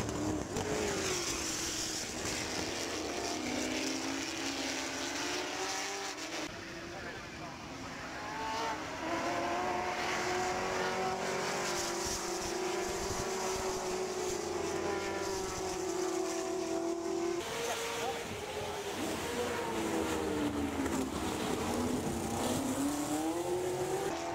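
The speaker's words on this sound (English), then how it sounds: "it was car number 13 of Sean Lynn and Emanuele Pirro that snuck past and started to catch the number 2 car of David Hart and John Hugenholtz." Ford GT40 race cars lapping Goodwood Revival in a one-make Whitsun Trophy race, engines rising and falling in pitch as they rev through gears and sweep past, loud and continuous for the whole stretch.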